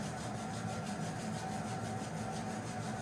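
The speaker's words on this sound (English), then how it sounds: "You can rub your palms here." Palms rub briskly together at the end of a Pilates flow, a steady, close, unbroken friction hiss with no talking.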